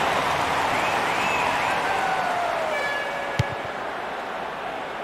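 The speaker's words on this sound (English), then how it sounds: "The referee ends the game, and there's a huge roar from the crowd" A stadium crowd roars at the end of the Portugal versus USA World Cup round-of-16 football match, a broad sustained wash of noise that slowly eases, with whistles and one sharp knock.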